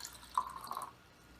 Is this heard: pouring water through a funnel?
yes